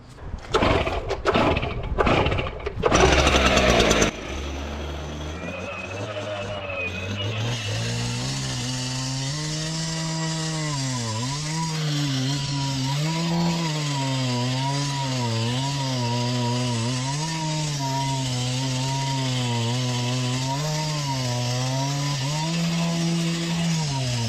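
A gas-powered saw with a worn-out blade cutting a score line into a concrete garage slab, its engine starting with a few sharp pulls and then a loud, steady roar that rises and falls as the blade bites, with no talking.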